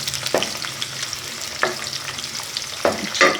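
Garlic fries in a hot pan on a Punjabi home stove while a spoon stirs it, making a steady close sizzle punctuated by four sharp scraping strokes of the spoon.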